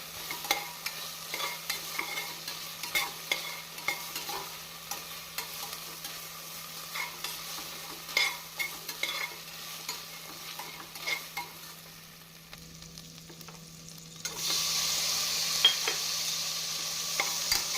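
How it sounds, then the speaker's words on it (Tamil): Onion and ginger-garlic paste sautéed in a pan for chicken biryani, with a steady sizzle and repeated scraping stir strokes close by, the frying hiss growing brighter near the end; no talking. "இஞ்சி பூண்டு விழுது போட்டு ஒரு அரை நிமிடம் நாம் மதக்கினால் போதும்"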